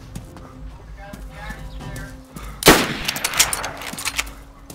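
A burst of MP5 submachine gun fire in DayZ cuts in sharply midway, loud and close, with a dense broadband crack and a scatter of follow-up shots and rattles trailing off behind.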